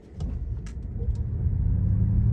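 An electric Ford Mustang Mach-E pulls away from a complete stop, its low rumble gradually building and swelling as it accelerates, with faint road noise and no sharp engine roar.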